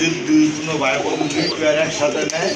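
Domestic and foreign pigeons at a pigeon sale coo in soft, throaty rolling calls, close and continuous, with people talking nearby.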